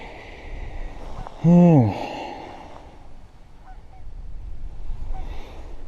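A single loud goose honk sounds over quiet outdoor background noise by a river.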